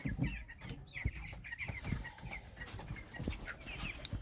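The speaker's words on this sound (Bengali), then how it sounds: "তো এখানে 40টা মুরগি আছে, এদের বয়স 13 দিন।" Forty 13-day-old broiler chickens clucking and chirping steadily inside a farm shed, a dense continuous chorus of close, overlapping calls with shuffling and scratching beneath.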